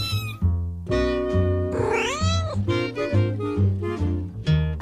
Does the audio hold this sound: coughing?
no